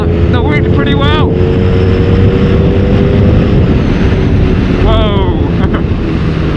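A BMW R nineT motorcycle cruises at speed in high gear, its low engine drone buried under heavy, close wind roar against the microphone, with a rider's voice briefly cutting through.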